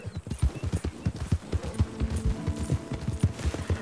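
A horse in Red Dead Redemption 2 pounds along at a fast, steady clip-clop, with a short whinny partway through and game music faintly underneath.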